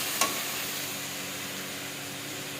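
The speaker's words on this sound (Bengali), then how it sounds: "এবার নাড়াচাড়া করব।" Washed vegetables going into a frying pan, with a steady broad sizzle throughout and one brief sharp clink near the start; close and fairly quiet, with no talking.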